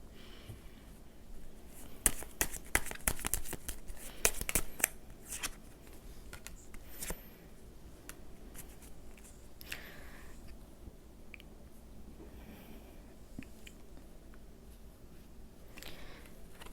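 Tarot cards are shuffled and drawn close by, giving a flurry of crisp riffling and flicking in the first few seconds, then sparse soft slides and taps against a quiet background.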